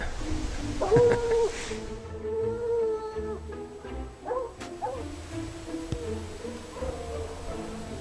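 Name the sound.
hunting hounds baying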